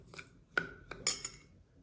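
A spoon stirs cumin powder, barbecue seasoning and chili powder together in a bowl, giving a few short, light clinks and scrapes against the bowl, close and fairly quiet.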